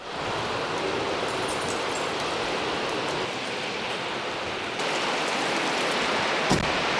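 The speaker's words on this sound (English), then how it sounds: "It's raining. It's raining hard, huh?" Heavy rain pours down hard in a dense, steady hiss, constant and enveloping, with a single sharp tap near the end and no voices.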